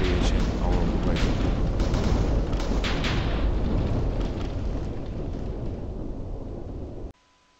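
A Rival Rebels mod weapon detonates in Minecraft, a loud, deep rumbling blast that roars continuously for about seven seconds, tapers slightly, then cuts off abruptly.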